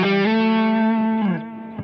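An electric guitar played through distortion slides between notes, a sustained overdriven tone that bends upward early, holds, then slides down and fades near the end, loud and alone.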